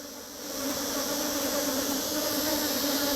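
Honey bees buzz steadily at a hive during a swarm split, a dense close drone that swells slightly and then holds even and unbroken.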